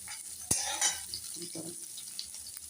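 Carrots frying in a pan for daliya khichuri give a steady soft sizzle, broken near the start by one sharp metallic clank of a utensil and a brief scraping stir.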